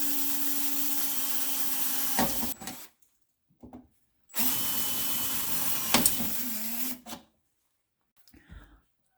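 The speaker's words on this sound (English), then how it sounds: "So let's go ahead and do the drilling." Power drill boring 3/16-inch holes for a hood strut install on a 3rd-generation Toyota, two loud sustained whirring runs of a couple of seconds each, separated by brief silence.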